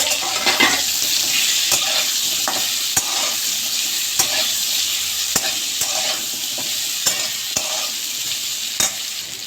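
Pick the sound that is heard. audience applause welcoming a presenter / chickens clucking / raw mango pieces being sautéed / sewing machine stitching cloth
raw mango pieces being sautéed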